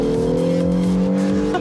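An Acura NSX hybrid sports car engine roars steadily at high revs, close and loud, with a strong low drone throughout as the car pulls hard out of a corner.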